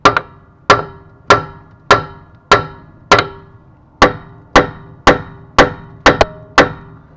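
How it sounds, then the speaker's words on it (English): A hammer striking a tire and wheel during a tire change, about twelve sharp metallic whacks at a steady pace of roughly two per second, close and loud, each ringing briefly before the next. "Grab your hammer, give her a couple whacks"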